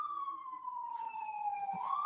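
A police siren wails in a slow, steady descending tone that sweeps back up at the end, heard alone at a moderate distance with faint traffic underneath.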